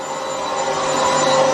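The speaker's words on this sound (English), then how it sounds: "That drill's not the best. It's from Harbor Freight." A Harbor Freight power drill runs steadily, boring holes at the ends of cracks in metal during work on an LS engine car, giving a loud continuous whine and whir close by with no speech.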